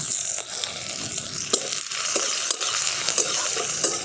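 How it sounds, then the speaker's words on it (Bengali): Black cumin seeds, crushed garlic and dried red chillies fry in hot oil in a wok, giving a steady close sizzle with sharp pops and crackles scattered throughout. "ফোড়নে দিয়ে দিচ্ছি কালো জিরে, থেতো করে রাখা রসুন,"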